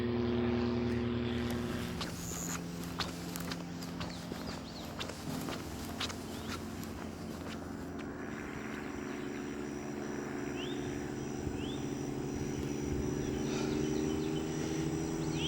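A small propeller plane drones overhead above a hiking trail, a steady, moderately distant engine hum that lingers throughout, with faint footsteps and bird chirps nearby.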